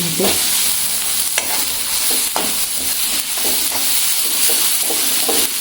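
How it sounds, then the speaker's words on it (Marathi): Masala mixture stir-fried in a pan for a pavta bean curry produces a loud continuous sizzle with repeated scraping strokes of a spoon against the pan, close and without talk. "आता हे एवढं छान मस्तपैकी ना परत एकदा चांगलं परतवून"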